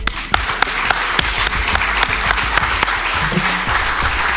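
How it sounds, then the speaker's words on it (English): An audience applauds at the closing remarks of a startup founders event, sustained dense clapping with sharp individual claps standing out, steady and close throughout. "Give yourselves a round of applause."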